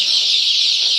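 Dense, continuous high-pitched peeping from many 18-day-old black chicks at once, steady and loud throughout with no pauses.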